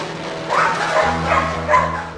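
A dog being chosen as a candidate for dog drivers gives a few short, close barks and yips mixed with whimpering, loud and clear with no talking over it.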